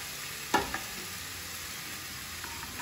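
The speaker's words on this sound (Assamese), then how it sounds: "আকৌ অলপ ফ্ৰাই কৰিব লাগিব" Onion, tomato and spices fry quietly in a pan for a pork curry, a soft steady sizzle with a sharp clink of stirring early on and a few light scrapes later.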